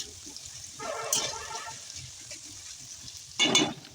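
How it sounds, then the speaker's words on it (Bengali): Chopped onion frying in hot oil gives a faint, low sizzle, with two louder bursts of crackle and scraping as it is stirred in the pan. "পেঁয়াজের কুচিটাকে দুই থেকে তিন মিনিট একটু নাড়াচাড়া করে নিচ্ছি আমি"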